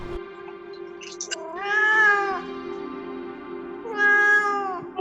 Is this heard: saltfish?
no